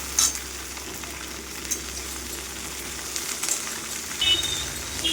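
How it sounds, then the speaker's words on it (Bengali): Okra and potatoes sizzle and crackle steadily in a hot pan, with occasional scraping and stirring clinks near the end. "ভেন্ডি আর আলুটাকে ভালোভাবে ভেজে ভেজে নেবো"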